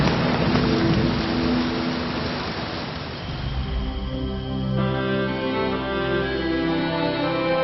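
Heavy monsoon rain pours in a dense, steady hiss. Low rolling thunder rumbles beneath it and gives way to a lighter patter of rain with tonal music over it.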